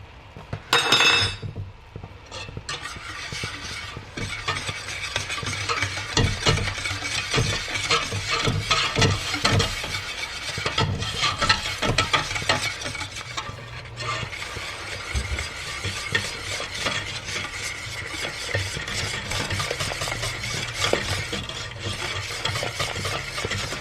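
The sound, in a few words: stirring cacao powder into cheesecake mixture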